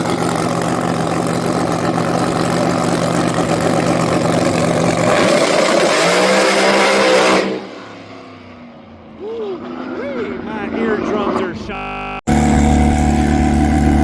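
Twin-turbo Suzuki GSX-R 1000 motorcycle engine roaring loudly at high revs on a track, sustained and close for several seconds, then dropping to a quieter idle with blips before a sudden loud return.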